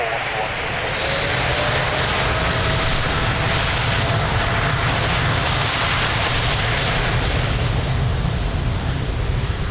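Airliner taking off from the runway at Lisbon Airport, a loud, continuous engine roar rising and holding steady at close range, with radio talk underneath.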